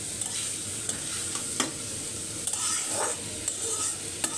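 Banana stem bhaji fries in a pan while being stirred, a steady close sizzle broken by scraping and clinking strokes of the spatula at irregular intervals.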